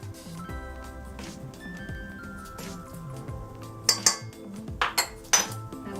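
Banana pudding cupcake batter of three medium-to-large bananas and half a teaspoon of vanilla is mixed in a bowl. A few sharp utensil clinks and scrapes ring out against a steady background hum.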